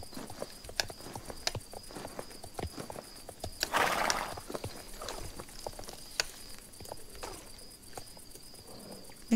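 Horse hooves clip-clop in a steady, slow rhythm in the video game Star Stable Online, with a short whinny and a faint bed of cricket chirps behind.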